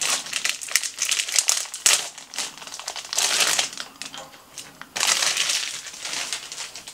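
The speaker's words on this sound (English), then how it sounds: "remove them from the outer packaging, and I just place them on the edge of my trolley" Plastic outer packaging crinkles and crumples up close as IV fluid bags are pulled out of it, in several bursts of rustling with short pauses between.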